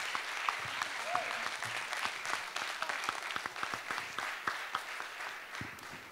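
Loud sustained applause from a large audience at a talent show grand finale, dense clapping with a few sharper claps and faint cheers throughout, no speech over it.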